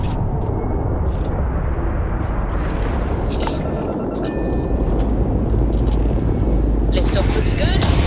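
Spaceship engine roaring through liftoff in Starfield, a loud, dense rumble that builds steadily and swells further near the end, with no talk over it.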